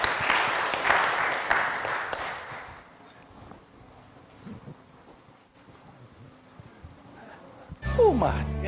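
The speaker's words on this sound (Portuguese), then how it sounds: "Vamos aplaudi-lo!" An audience at a Baptist theology seminar applauds in a dense burst for about three seconds, then fades to quiet room noise with faint scattered sounds and a sudden louder noise at the very end.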